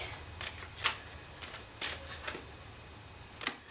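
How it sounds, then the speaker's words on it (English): Cards are shuffled in short riffling bursts, several brisk ruffles with pauses between, close and fairly quiet. "It's weird, it's sort of stopping and starting as I'm shuffling"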